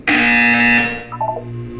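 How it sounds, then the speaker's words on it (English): A loud, sustained electronic buzzer from the Portal 2 video game sounds alone for about 0.7 seconds with a bright harmonic tone, then fades into a softer low hum with a few faint blips. "You will hear a buzzer."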